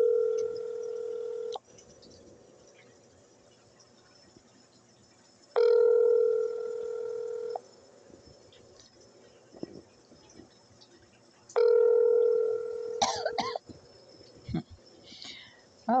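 A telephone rings unanswered on a call, three long ringback tones about six seconds apart, each followed by a quiet line, with faint background noise between the rings.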